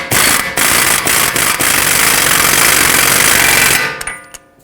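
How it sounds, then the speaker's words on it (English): A power tool rattles rapidly while bottoming out the front axle nut on a 2012-2017 Toyota Camry during a wheel bearing job, with one continuous loud burst about four seconds long, briefly broken near the start, then winding down. "I'm gonna bottom it out with a power tool"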